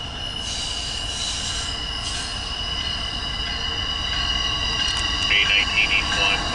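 CSX Q138/140 intermodal freight train rolling past with loud, sustained wheel squeal and steady rail rumble, close and continuous throughout.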